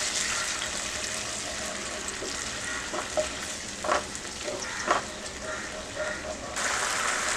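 Red chilli sauce, tomato ketchup and soy sauce sautéing in a pan, a steady close sizzle with a few brief stirring scrapes and clinks, and the hiss swelling louder near the end.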